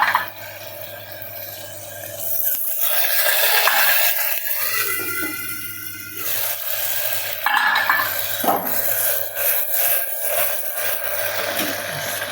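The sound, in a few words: chopped potato frying in oil with peanuts, stirred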